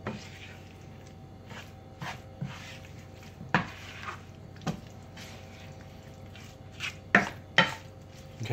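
A spoon stirring goulash in a large pot, soft scraping and sloshing with occasional sharp clinks against the metal, close and quiet, with intermittent pauses and a faint voice in the background.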